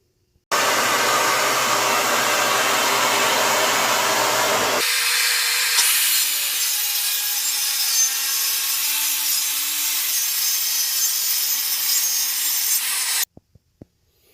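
A circular saw cutting wood roars loudly and steadily alongside a shop vac drawing off the sawdust. The tone shifts once partway through as the cut proceeds, and the sound stops abruptly, followed by a few small knocks.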